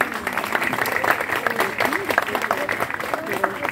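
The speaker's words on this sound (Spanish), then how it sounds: "Un fuerte aplauso para él, por favor." Steady applause from a crowd at a poetry book presentation during a poetry festival, dense clapping continuing throughout at a fairly loud, even level with a few louder bursts.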